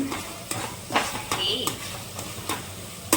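Green chickpea curry with gravy bubbling in a pan while a spoon scrapes and stirs in repeated strokes, soft sizzle underneath; faint voices in the background.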